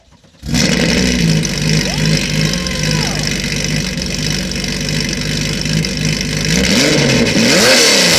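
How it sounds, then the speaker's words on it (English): Loud RWB Porsche 993 flat-six with very wide 335 rear tyres drives off, a deep, constant engine drone from a brief quiet start, swelling as it revs harder near the end. "paired with that brutal flat six sound. And speaking of the sound, let's go for a drive."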